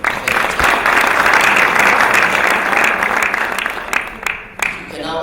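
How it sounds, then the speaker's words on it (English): A round of applause from the audience at an annual alumni conference, a loud dense wave of clapping that swells, holds, then thins out with a voice starting over the tail. "please one more time, round of applause to the CS"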